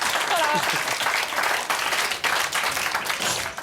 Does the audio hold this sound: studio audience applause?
yes